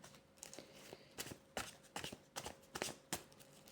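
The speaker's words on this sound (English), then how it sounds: "I'm going to shuffle and then I'll pull 3 cards" Tarot cards riffled and tapped in a quiet room, a series of soft crisp bursts and flutters, close up, with no voices.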